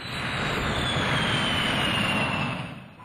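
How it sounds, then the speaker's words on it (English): A turbine jet engine roars steadily at full power, a loud, dense broadband rush with a faint high whine on top, sustained for about three seconds before easing slightly at the end. "the expanding gas roars from the jet pipe with tremendous force"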